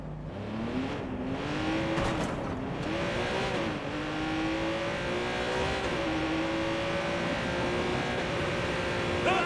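Car in Watch Dogs 2 accelerating hard through San Francisco's Castro, engine note climbing through gear changes with rising and dropping pitch, loud and continuous, with brief tire noise early on.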